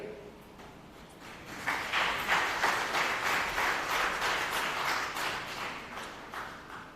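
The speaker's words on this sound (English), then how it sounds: "we applaud the entire First Regional team for another successful year" An audience at a credit union annual general meeting breaks into applause, a steady wash of many hands clapping that rises after a quieter start and holds at a moderate, slightly distant level.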